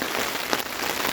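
Steady, dense patter of rain drumming on a tent during a wild camp on Dartmoor's Feather Tor, close and continuous with no voices.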